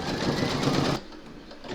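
An embroidery machine stitches a zipper bag held in the hoop, a loud, fast, steady mechanical chatter close up that stops abruptly partway through, leaving quiet room tone.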